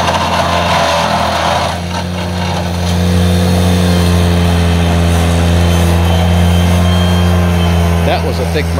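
A Ventrac tractor mower working a hillside, its steady mid-pitched engine drone loud and close with brief strain as it cuts through a thick branch, load rising in the second half.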